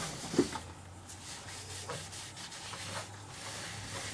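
A continuous rhythmic scratchy rubbing of abrasive on a wild cherry bowl turning on a lathe, steady and close, over a low motor hum with no talking.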